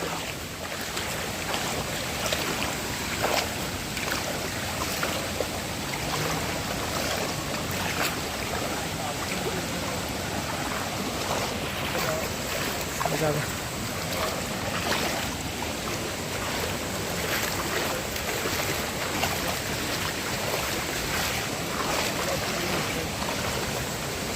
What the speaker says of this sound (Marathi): हे बघा नदी बघा तुम्ही